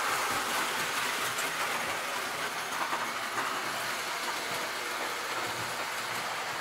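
A 1935 Lionel 279E Silver Streak toy electric train runs steadily on its track, giving off a constant hissing whir with faint clicking under it and no talking.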